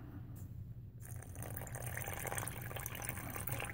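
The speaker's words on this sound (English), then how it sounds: "we'll add a tiny bit of water" Water trickles and pours steadily into a U.S. military MRE shredded beef with BBQ sauce pouch, a faint, close splashing fill with a brief gurgle near the start.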